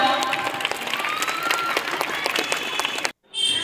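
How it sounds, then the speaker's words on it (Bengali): A crowd at a girls' high school annual sports day claps steadily in dense, loud applause, continuous for about three seconds before cutting off abruptly and resuming. "সকলে জোরে হাততালি দাও।"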